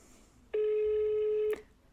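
A single telephone ring tone sounds for about one second, a clean steady electronic tone that starts and stops abruptly, close and loud in an otherwise quiet room.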